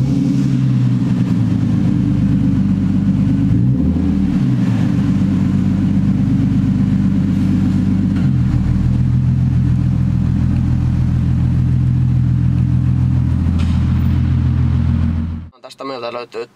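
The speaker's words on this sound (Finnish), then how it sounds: "lähdetään käymään vähän koeajaa ja katsotaan minkälainen on tuon liikenteessä" A Toyota Progres NC300 on a test drive, its engine holding a steady, loud droning hum with a brief dip and shift partway through as it moves along in traffic, then cutting off near the end.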